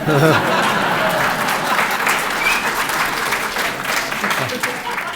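Conference audience at a closing address breaks into sustained, full applause with a few scattered chuckles and brief voices underneath, steady throughout.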